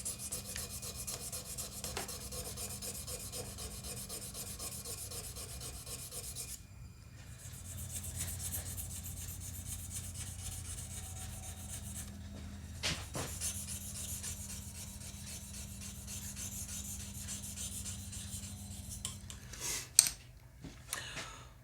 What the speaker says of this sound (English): Going through the grits and gradually polishing it all up.